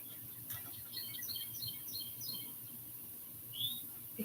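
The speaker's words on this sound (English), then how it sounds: "why do these birds sound fucking loud this morning?" Several birds chirp in quick bright bursts on a morning outdoors, faint and somewhat distant, with repeated short tweets over quiet background hum.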